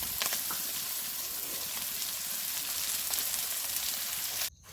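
Onions frying with turmeric and salt while being stirred, a steady dense sizzle close up with faint scraping, cutting off abruptly near the end.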